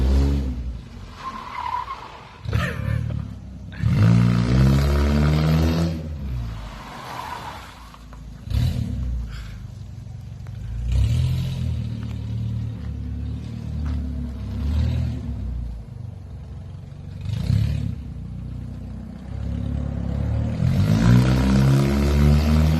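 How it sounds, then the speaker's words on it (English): A ratchety Nissan 240SX drift build sliding in reverse on a street past mailboxes, its tires squealing and skidding in repeated bursts over a rumbling engine, loud and close throughout. "He's having fun drifting backwards, almost hitting mailboxes."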